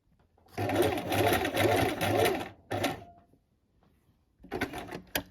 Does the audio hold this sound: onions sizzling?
no